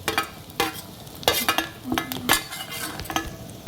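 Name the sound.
sautéing onion in a pan until reddish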